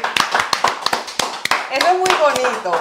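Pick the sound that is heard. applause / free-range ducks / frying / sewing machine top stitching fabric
applause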